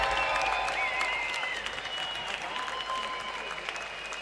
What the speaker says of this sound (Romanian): Dați un aplaud.